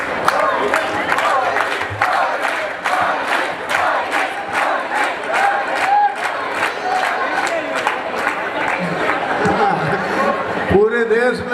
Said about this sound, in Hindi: लोग मोदी मोदी कर रहे हैं